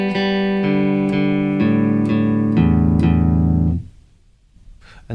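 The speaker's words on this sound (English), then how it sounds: "we're just going to be playing through strings 1 to 6 using downstrokes" Open guitar strings are picked one at a time with downstrokes, string 1 through 6, about six evenly spaced notes that ring and overlap before stopping into near silence.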